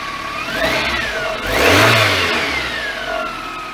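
A 1992 Toyota Camry engine with an exhaust leak runs close by, its steady rumble rising in a brief rev and settling back to idle, a raspy drone throughout with no voices.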